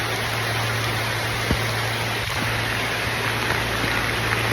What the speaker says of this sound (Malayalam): മഴ എന്ന് പറഞ്ഞാൽ ഒരു രക്ഷയില്ലാത്ത മഴ